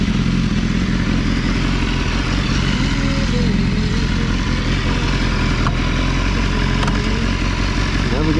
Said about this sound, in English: basically just gonna hear the bike